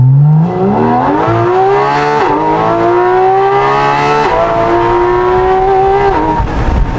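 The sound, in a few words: Porsche sports car titanium exhaust revving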